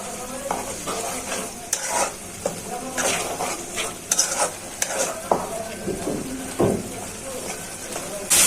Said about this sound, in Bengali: এখন ভালো করে মশলাটা কষানো হয়েছে আর শুটকি ভুনাটা হয়ে গেছে প্রায়।